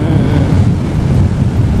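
Ocean surf rolling onto a southern-coast beach, a loud, dense wash of waves with heavy wind buffeting across the microphone, continuous for the whole short stretch and without voices.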